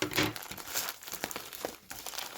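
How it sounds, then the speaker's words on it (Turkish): Crinkling and rustling as packing tape on a box is cut open with scissors, with sharp little snips and tears, close up and busy, no voices. "Bantımızı makasla açıyoruz."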